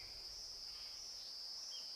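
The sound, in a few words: cicada song in a forest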